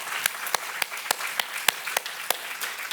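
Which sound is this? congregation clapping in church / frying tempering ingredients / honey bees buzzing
congregation clapping in church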